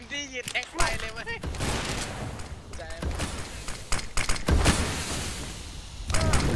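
Rapid bursts of rifle and pistol gunfire ring out during a CS:GO match on the Mirage map, sharp cracks in irregular clusters mixed with excited players talking over them.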